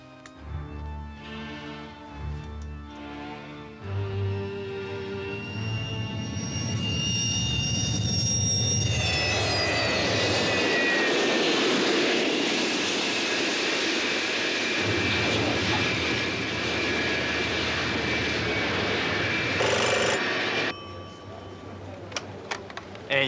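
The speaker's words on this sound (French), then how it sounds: "L'avion est arrivé de Wakanai." Fixed-wing airplane engine roar swelling and sustained in a drama-film scene, a loud steady drone with rising whine, cutting off near the end.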